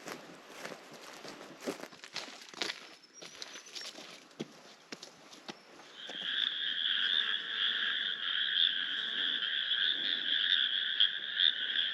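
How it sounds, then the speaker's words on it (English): Frogs croak in a steady, dense chorus from a patch of swampland beside a large inlet, starting after a few seconds of quieter outdoor ambience and continuing loud and unbroken. "Sounds like the frogs are particularly happy across there in a little bit of swampland."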